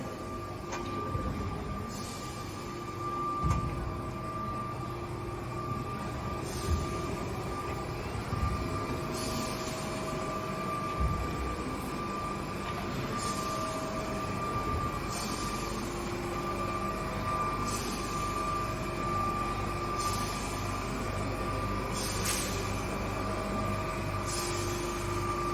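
A Chiltern Railways Class 16X hybrid train runs quietly on electric power with a low, steady hum and faint rattles and clicks, staying subdued throughout.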